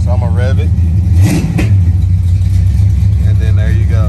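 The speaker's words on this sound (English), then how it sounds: "So I'm gonna rev it." A 1987 Oldsmobile Cutlass running with a Holley Sniper EFI setup, its engine revved hard up close with a loud rising roar, then holding a steady rumbling run as a voice speaks over it.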